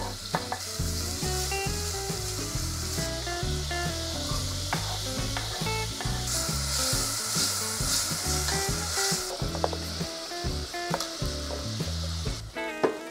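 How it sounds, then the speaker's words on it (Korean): Loud, continuous sizzling and stirring of abalone in a hot pan, with food being tossed and scraped throughout and no talking. "전복을 넣고 볶아줄게요."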